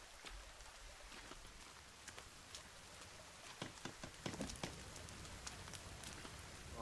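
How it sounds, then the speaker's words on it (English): Rain in the survival video game The Forest pattering softly and steadily, with scattered louder drops ticking on a surface, faint and with no voices. "Oh, it's raining more."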